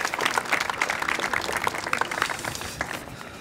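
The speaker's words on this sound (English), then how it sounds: "Let's give them a round of applause." A crowd gathered outdoors for a zoo reopening ceremony claps in fairly close, lively applause that gradually tapers off.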